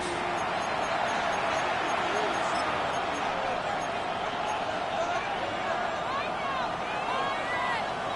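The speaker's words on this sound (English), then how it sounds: "The crowd making their presence felt." Stadium crowd noise from an EA Sports NFL video game forms a constant, distant roar of thousands of voices, steady and even throughout with faint rising shouts.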